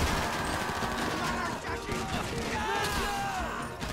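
Rapid gunfire from Grand Theft Auto V Online during a Fleeca Job heist, dense bursts of shots and crashing impacts running throughout, loud and close.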